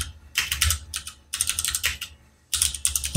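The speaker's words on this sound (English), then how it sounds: "I'm typing all this out for Sniper," Bursts of typing on a computer keyboard, rapid clustered keystrokes in three runs separated by short pauses, close and fairly quiet with no talking.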